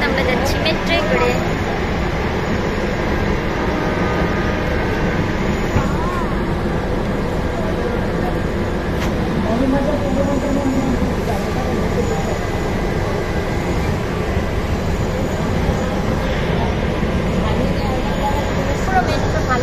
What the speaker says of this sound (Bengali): দেখুন, আমরা যাচ্ছি মেট্রোয় করে।